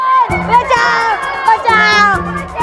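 Children shout together inside a classroom in a fantasy kids' drama, a loud, dense crowd of young voices yelling and calling out continuously throughout.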